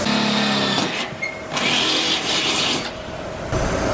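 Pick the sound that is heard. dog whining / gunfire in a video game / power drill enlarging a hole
power drill enlarging a hole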